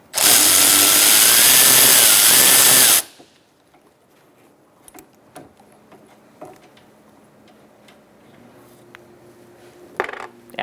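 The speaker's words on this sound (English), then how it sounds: "Using a 13 millimeter, we're going to remove the nut for this line." A power tool with a 13 mm socket spins off a nut on a 2012-2018 Ford Focus, giving one loud whirring burst of about three seconds. Faint clinks and small handling noises follow in a quiet space.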